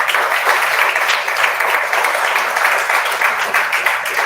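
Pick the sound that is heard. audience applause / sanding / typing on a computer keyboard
audience applause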